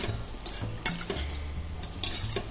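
Zucchini and beans fry and get stirred in a pan for a vegetable soup, a steady close sizzle with repeated scraping strokes of a utensil against the pan and no voices.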